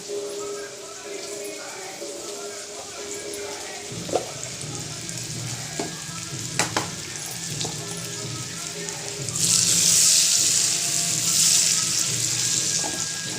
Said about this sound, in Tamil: ஊறுகாயில் அப்படியே இந்த எண்ணெயில் நல்லா பொரியட்டும்